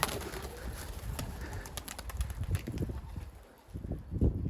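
Pigeons coo softly and repeatedly nearby, low throaty calls over a rustling, shuffling background.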